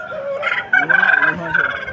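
An Aseel rooster, two years old, over four kilograms, at a Vijayawada fowl market, gives a short, loud, strained call that rises and holds briefly, with voices and market noise around it.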